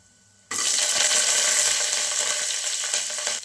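Green chilies dropped into hot oil already holding cinnamon, cloves, cardamom and pepper for jeera rice, bursting into a sudden loud, steady sizzle that keeps crackling close up after a quiet moment.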